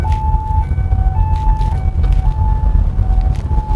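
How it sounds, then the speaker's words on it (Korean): An ambulance siren wails nearby in a steady two-tone pattern over a loud rumble of road and engine noise, heard from inside a 2021 Mercedes-Benz EQA250 electric car, with no talking. "어디선가 앰뷸런스가 아 바로 옆에 있었군요"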